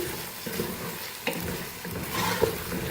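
Chicken, onions and ginger garlic paste being stirred in a pot for pulao, with a steady low sizzle and a few scraping spoon strokes near the end.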